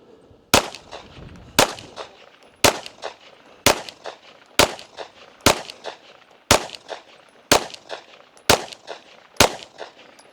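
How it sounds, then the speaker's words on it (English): Ten evenly spaced gunshots from a Bear Creek Grizzly BC-101 firing CCI Blazer 115 grain rounds at a target, each a loud sharp crack followed by a short decay, about one shot per second. "Let's shoot one more 10-shot group at the middle right target."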